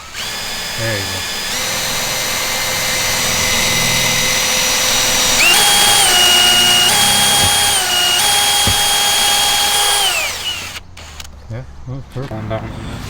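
A power drill whines steadily at close range, its pitch stepping up and down as it bites through the plastic of a Sea-Doo fender, then winds down near the end.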